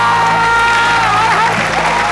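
A cheering squad in a game show studio bursts into applause and excited cheers, a dense, loud, continuous clapping and shouting lasting the whole moment without a break.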